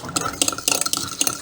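Salt being stirred into a solvent to dissolve it gives quick, rhythmic scraping clinks, about half a dozen strokes in a second and a half, close and fairly crisp, with no voices.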